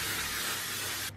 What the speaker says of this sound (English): I'm just gonna quickly go in with a little bit more of my setting spray just to make sure it's all set in